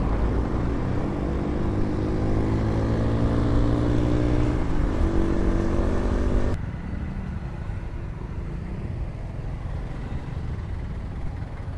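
Honda Wave RSX motorcycle engine running steadily while riding through traffic, a loud continuous hum that drops suddenly to a lower, quieter drone partway through, with no talking.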